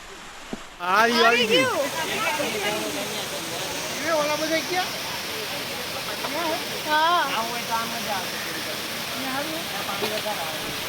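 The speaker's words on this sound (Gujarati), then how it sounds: "હવે અહીંયા હું ડાયરેક્ટ સીધો નીચે વોટરફોલ ઉપર આપણે પહોંચી ગયા છીએ" Koshmal Waterfall in Dang, Gujarat, roars as a steady, loud wash of falling water, with people talking and calling over it throughout.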